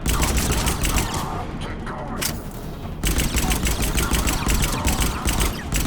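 Rapid automatic weapons fire in Mass Effect 3, a loud dense stream of shots that briefly thins before resuming at full intensity, with battle noise filling the gaps and no clear talking.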